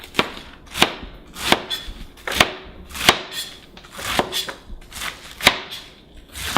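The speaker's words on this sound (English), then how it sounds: "finish chopping the napa cabbage" A knife chops napa cabbage on a board in steady, evenly spaced crisp thuds, about ten cuts, close and clear with no talking.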